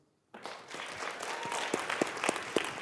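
A conference audience breaks into applause at a speaker's talk, starting abruptly and holding as a steady, fairly distant wash of many hands, with a few sharper individual claps and whoops near the end.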